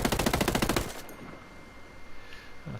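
In the video game Ghost Recon Breakpoint, an AK-12 rifle fires a rapid full-auto burst of loud, closely spaced shots for about a second, then cuts to a quiet room-tone tail.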